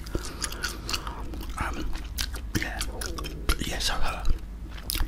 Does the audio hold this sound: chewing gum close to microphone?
yes